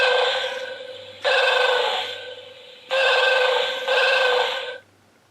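A Hallmark Star Trek Tribble ornament gives its happy sound when squeezed: loud, close warbling electronic trills in several bursts, with a faint low hum underneath and no talking.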